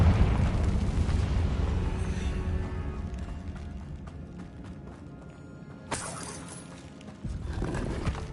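Confringo blasting spell exploding in Hogwarts Legacy, a loud booming rumble that fades over several seconds, then a sharp crackling burst and a renewed rush of noise.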